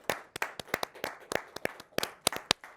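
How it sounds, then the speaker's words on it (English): A small group of people at a governance forum session clap at the close of a panel, giving sparse, uneven hand claps from a few nearby listeners for under three seconds, with no talk over them. "We're all joining you in the applause."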